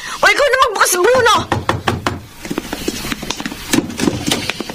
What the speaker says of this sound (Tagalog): may kumakatok sa labas!